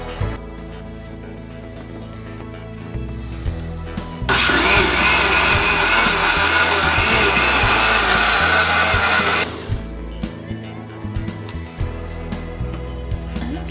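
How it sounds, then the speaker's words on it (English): A blender whirs loudly and steadily as it blends horchata, cutting in abruptly, holding a dense, roaring drone for about five seconds, then stopping, with quieter clatter and background hum before and after. "We're going to blend for 2 minutes."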